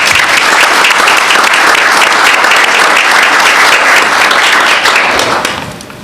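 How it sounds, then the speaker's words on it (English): A city council meeting crowd gives Representative Baker a loud, dense round of applause that holds steady for about five seconds before tapering off at the end. "I'd like to give Representative Baker a round of applause"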